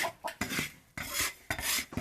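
A metal spatula scrapes salt around a red-hot dry wok with no oil, in a home kitchen: rough rasping strokes in an irregular rhythm, close and fairly quiet, with no talk.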